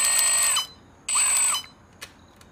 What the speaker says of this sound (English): This ESC dings.